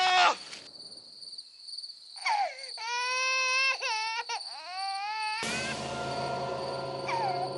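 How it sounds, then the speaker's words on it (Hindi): A small child crying and wailing in a TV serial scene, drawn-out high sobbing cries in several bursts with pauses, loud and close, alone without talk. "आपको किसी छोटे बच्चे के रोने की आवाज सुनाई दी?"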